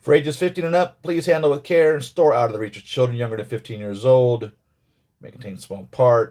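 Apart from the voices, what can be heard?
No everyday noises stand out.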